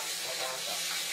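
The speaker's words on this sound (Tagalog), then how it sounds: "Kasi nagpiprito ng isda." Hasa-hasa fish fry in a pan of oil, giving a soft, steady hiss and sizzle at low volume that carries on without a break.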